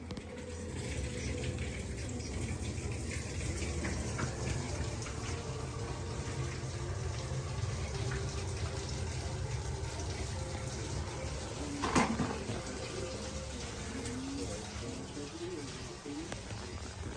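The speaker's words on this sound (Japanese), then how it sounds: "こちらね、シャワーなんですよ。" A bathroom shower runs continuously, a close, steady rushing hiss of water that lasts the whole stretch, with a brief voice over it near the end.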